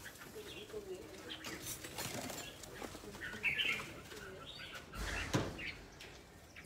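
Birds coo softly and flap their wings in a fairly quiet, intermittent mix of low calls and brief fluttering bursts.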